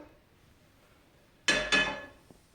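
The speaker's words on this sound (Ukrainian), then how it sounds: "Ставлю сковорідку" A frying pan is set down on a stove in a quiet kitchen. Two quick metallic clanks sound close together, followed by a faint small tap.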